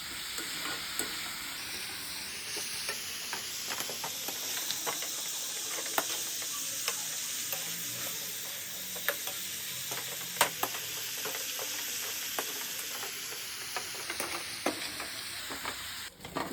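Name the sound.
sautéing onions in a pan for chutney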